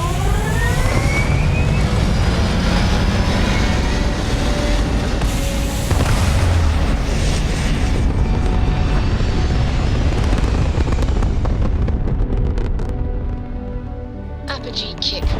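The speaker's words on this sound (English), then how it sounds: "All thrusters firing." Spaceship thrusters fire in Starfield with a dense, continuous roaring rumble and deep booming, loud and sustained before easing slightly toward the end.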